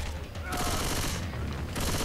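Sustained automatic gunfire in the zombie video game Left 4 Dead 2 rattles in dense, rapid bursts on Expert mode, loud and continuous with a brief lull, while players' voices chatter beneath.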